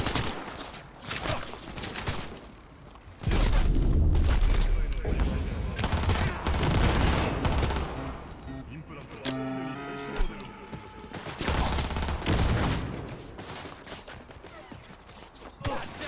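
Bursts of rapid automatic gunfire in a police shootout in Cyberpunk 2077, loud sustained volleys separated by short lulls, with game effects and tonal interface beeps mixed in.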